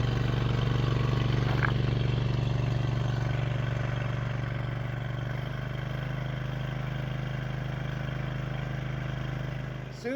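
A steady, rumbling engine drives an 8-inch gold dredge in Alaska, droning continuously at close range with a tractor-like chug and a slight shift in pitch midway.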